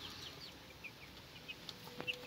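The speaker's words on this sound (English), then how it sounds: "4 days old chicken." Broiler chicks four to five days old cheep in a small backyard pen, giving faint, scattered high peeps against quiet ambient noise, with a slightly louder chirp near the end.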